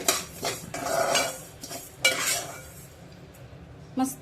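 Metal utensils scrape and clatter against a pan and vessel as golden-brown roasted rice is scooped out, with several sharp clinks and scrapes in bursts, close up and loud.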